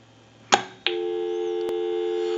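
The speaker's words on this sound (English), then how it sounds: "We can hang up, give you some dial tone." AT&T single slot payphone: a handset clunk, a click, then a steady continuous dial tone droning on loud and close.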